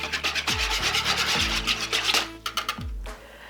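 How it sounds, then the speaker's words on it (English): Warm water and dry yeast are whisked together in a bowl for a simple bread dough, giving a close, steady scraping and rubbing rhythm with no talk. "3 1/4 ounce packages of dry yeast, and we're going to whisk these together."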